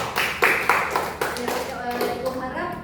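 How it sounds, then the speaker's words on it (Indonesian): Scattered classroom clapping for a student named Yasmin, a few hands striking unevenly in short bursts that fade quickly, with a voice speaking over the tail end. "Tepuk tangan dulu untuk Yasmin"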